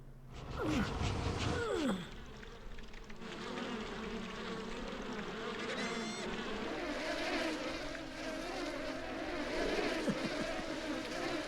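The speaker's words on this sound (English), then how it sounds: "My goodness, what a lot of buzzing bees." A loud swarm of bees drones and buzzes steadily in Piglet's Big Game, a continuous cartoonish hum with wavering pitches that persists throughout under light game music.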